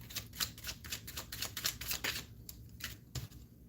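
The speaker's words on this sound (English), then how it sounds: "Let me pull some more cards." Tarot cards shuffled and drawn by hand, a rapid run of crisp papery flicks and riffles close up, then a few separate snaps as single cards are pulled and laid down.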